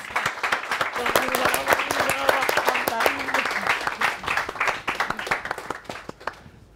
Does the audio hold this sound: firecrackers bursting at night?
no